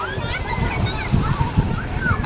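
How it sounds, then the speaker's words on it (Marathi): Sea wave surging onto a beach, water splashing and sloshing in quick bursts close by, with children's voices audible in the background. "लाट कशी आली."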